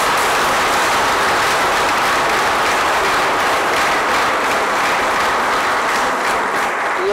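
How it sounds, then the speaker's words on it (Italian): Loud, steady applause fills a reopened church in Forcella, a dense wash of clapping from the congregation sustained evenly throughout with no voices above it. "fategli un grande applauso"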